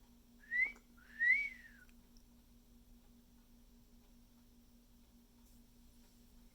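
Two quick whistled chirps from a parrot on Hilton Head Island, SC, the second slightly longer, each rising then dropping, followed by several seconds of near silence with a faint steady hum.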